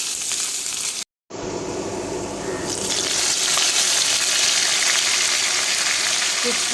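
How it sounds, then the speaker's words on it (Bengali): Onion and garlic frying in oil in a pan with vegetables, a loud, steady sizzling hiss that drops out briefly near the start, then swells and continues unbroken. "পেঁয়াজ রসুনটা লাল লাল করে ভেজে নিয়ে"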